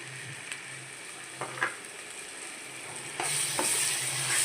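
Boiled gongura (sorrel leaf) paste frying in a pan for gongura rice, a low steady hiss with a few soft spatula taps, swelling into a louder sizzle near the end.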